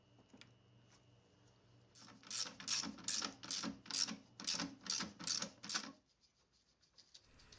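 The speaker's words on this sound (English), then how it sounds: "we raised the lower control arm and torqued the upper shock mount bolts to 66 pound-feet" A ratchet tightens the upper shock mount bolts on a 2015-2023 Ford Mustang, giving about a dozen quick, evenly spaced clicking strokes, close and fairly quiet, with no talking.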